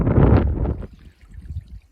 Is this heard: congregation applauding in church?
no